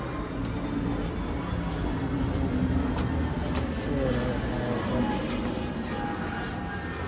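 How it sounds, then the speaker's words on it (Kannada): An airplane passes overhead at night in a rural setting, a steady, broad engine drone that holds loud and even for several seconds, with faint clicks and a voice talking over it. "ಅದ್ರಾಗ ಮೇಲಿಂದ ಏರೋಪ್ಲೇನ್ ಒಂದು."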